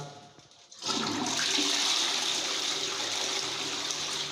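A toilet is held down for a long flush after being clogged with grease, giving a loud, steady rush of water that begins abruptly under one second in and continues unbroken, close and alone.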